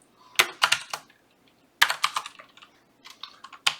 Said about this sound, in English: I can just start typing here